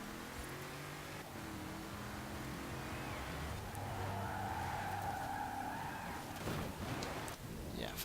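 A car drifting in Forza Horizon 4 on Fortune Island, its engine droning with a long sustained tire squeal as it slides, steady and close throughout.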